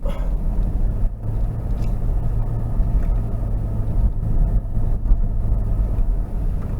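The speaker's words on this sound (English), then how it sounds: "some little tracks like this where the Land Cruiser uses its four-wheel drive and that massive V8, combination of gravel and granite" A 2016 Toyota Land Cruiser GXL with a diesel V8 and four-wheel drive climbs a gravel and granite track, its steady low engine drone and crunching tyre rumble continuous and close throughout.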